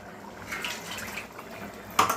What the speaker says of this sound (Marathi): आणखी आपण थोडं पाणी टाकून देऊ याच्यात